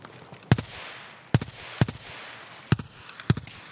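Sharp single gunshots crack out in Escape From Tarkov on the Reserve map, five loud separate reports at uneven intervals over a quiet background.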